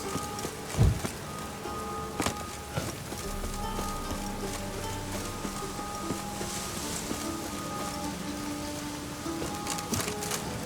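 Steady rain patters across a surface in The Witcher 3, a continuous wash of drops with a few brief louder knocks and faint background game sounds, with no talking over it.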